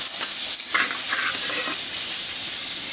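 Garlic, onion and tomato sautéing together in a pan give a steady, close sizzle and hiss with a few soft stirring scrapes, no voices.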